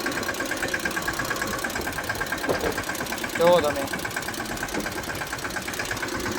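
A tractor loaded with grass idles steadily with a low, even rumble throughout, while a person talks briefly over it.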